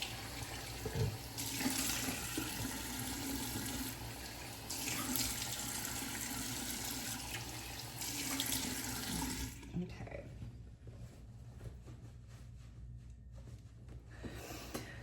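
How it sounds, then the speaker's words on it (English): A bathroom sink tap runs steadily while someone rinses their face, water splashing close by for about ten seconds before the flow stops and the room goes quieter. "I'm going to rinse off my face"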